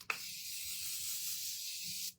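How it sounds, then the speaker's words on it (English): Makeup setting mist sprayed in one steady, close hiss lasting about two seconds, starting with a sharp burst and cutting off cleanly, with no talking over it. "then immediately we're gonna set with our setting mist."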